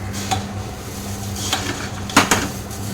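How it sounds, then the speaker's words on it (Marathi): Garlic chivda is stirred into puffed rice chivda in a bowl or pan, with soft rustling, scraping and a few clinks of a spoon against the vessel, close up and moderate in level. "हा लसूण चिवडा मी ह्याच्यात मिक्स करून घेणार आहे"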